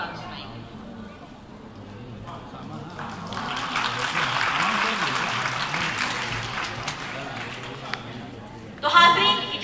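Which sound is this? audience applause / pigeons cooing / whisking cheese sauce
audience applause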